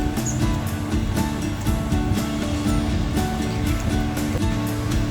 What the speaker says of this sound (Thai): นี่ครับบรรยากาศริมทะเลนะครับ